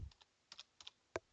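Typing on a computer keyboard: a handful of faint, crisp key clicks in quick, uneven succession in a quiet room.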